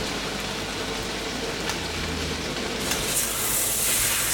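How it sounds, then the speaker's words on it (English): Rice noodles and sugar sizzle and caramelize in a hot pan for Thai pad see ew, a steady close hiss of frying that brightens and grows slightly louder near the end. "what you wanna do is you wanna let the noodles and the sugar caramelize"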